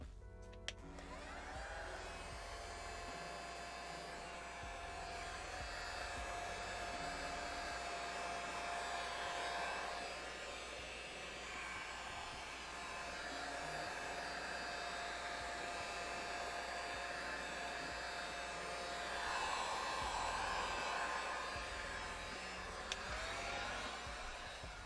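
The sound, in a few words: heat gun blowing hot air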